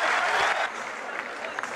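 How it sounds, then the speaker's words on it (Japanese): A large arena crowd roars and applauds for the champion and challenger after a WBA super bantamweight world title boxing match, loud and dense at first, then easing to a steady distant wash with faint voices underneath. "ただご覧のようにチャンピオン、そしてチャレンジャー、その中里に対しても大きな声援が送られています。"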